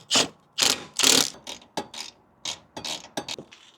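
A flex head ratchet wrench clicks in short bursts of pawl ratcheting while bolts are turned on a Nissan 350z headlight, close and crisp, about ten separate strokes with brief pauses between them.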